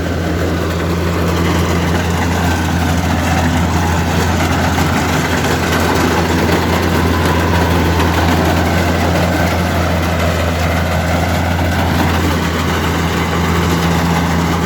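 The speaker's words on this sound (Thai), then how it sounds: "ในกำลังทดสอบระบบเกี่ยวครับ ของรถเกี่ยวโกต้า DC 60 Plus" A Kubota DC60 Plus combine harvester runs its harvesting system, producing a loud, steady, low-pitched engine drone with a constant mechanical whir that holds without a break from start to finish.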